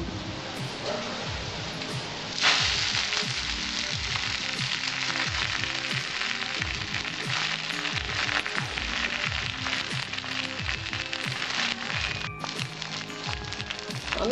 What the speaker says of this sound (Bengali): আমার তেলটা গরম হয়েছে আমি এবার পাট শাকটা ছেড়ে দেবো